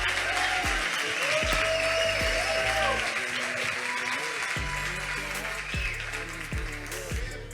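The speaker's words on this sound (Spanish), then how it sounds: "¿Por qué no le damos un aplauso?" Church congregation applauding to welcome a visiting speaker, a continuous wash of clapping with low tones from a sound system or music underneath, steady in level throughout.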